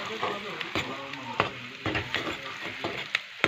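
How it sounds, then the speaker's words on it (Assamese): Spices fry in a pan with a continuous soft sizzle, broken by repeated scraping stirs of a spoon against the pan bottom, close and fairly clear. "এইখিনি মই লৰাইছোঁ।"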